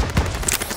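A rapid burst of gunfire from a Call of Duty: World at War battle, short and loud, crackling under a busy combat din.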